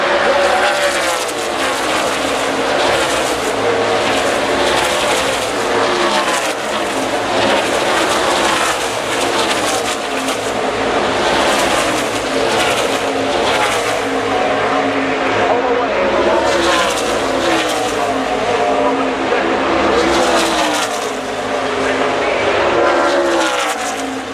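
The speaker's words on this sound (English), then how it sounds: "Connor Zilisch now has increased his lead to 4 car lengths" NASCAR Xfinity Series race cars roar around Pocono Raceway in a constant loud engine drone, swelling and fading as packs pass, while a commentator talks over it throughout.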